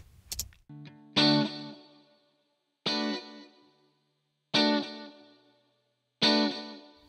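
A clean, uncompressed electric guitar strums four ringing chords, each struck once and left to decay, with brief pauses between them.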